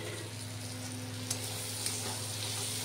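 Spiced masala frying steadily in a pan with an egg going in, a continuous close sizzle with a couple of small clicks and no talking.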